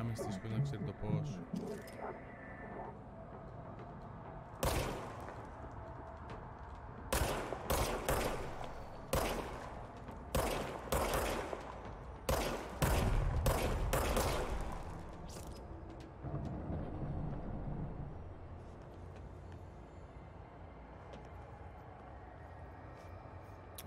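Scattered sharp gunshots in the video game Control, fired singly and in short clusters with a loud flurry in the middle, under someone talking.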